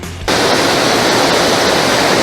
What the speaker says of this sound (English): This is one of the nicer waterfalls. The water's quite high today